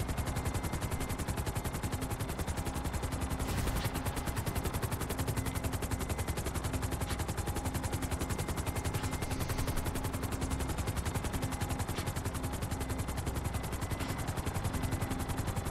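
Rapid, continuous automatic gunfire in the GTA 5 video game as a helicopter is shot at, a dense, steady rattle of shots throughout with a faint rotor-like drone underneath.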